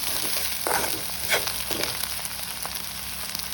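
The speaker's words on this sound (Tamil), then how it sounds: "வெங்காயம் பச்சை மிளகாய் கருவேப்பமில்லை வந்து வதங்கி போட்டிருக்குது" Sliced onion, green chilies and curry leaves sauté in a pan, a continuous light sizzle with occasional stirring clicks and scrapes.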